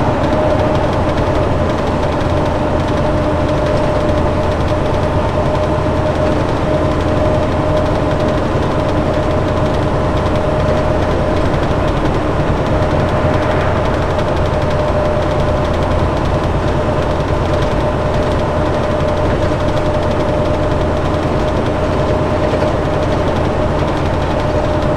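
Steady low drone of a semi truck engine on the road during long-haul driving, continuous and unchanging with constant road rumble and a faint tonal hum, no talking.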